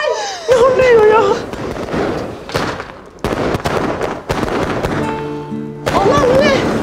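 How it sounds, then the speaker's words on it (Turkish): Fireworks go off outside in a rapid series of cracks and bangs, mixed with excited, overlapping voices shouting and laughing nearby. "Havai fişek patlıyor dışarıda."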